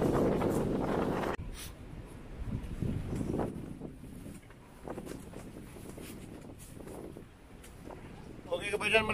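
Strong wind gusts buffet the microphone in rushing waves at a campsite, with people talking intermittently underneath.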